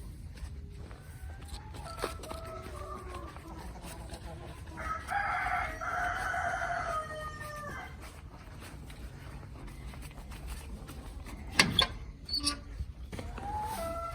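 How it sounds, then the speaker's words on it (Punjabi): A rooster crows at moderate distance amid scattered desi hen clucks and other bird calls on a desi poultry farm, with a low farmyard background throughout. "ਇਹਦੇ ਚ ਆਪਣੇ ਕੋਲੇ ਆ ਮੁਰਗੇ ਵੱਧ ਆ"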